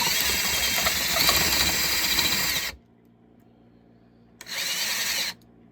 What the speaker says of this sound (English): I decided my vertical drill with my 1 1/8 bit would be a more appropriate tool for the job.